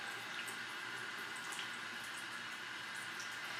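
Tap water runs steadily into a sink to wet a stained eyeshadow makeup brush, a close, even rushing hiss with faint dripping that carries on throughout.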